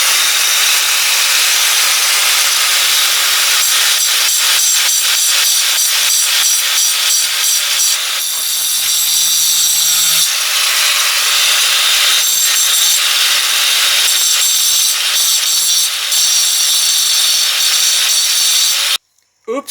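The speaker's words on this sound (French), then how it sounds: "on va pouvoir limer, enfin plutôt ébavurer, l'ancienne anse" A plugged-in power tool grinds and deburrs the stub of an old mug handle, a loud steady rasping drone that runs almost without a break and cuts off abruptly near the end.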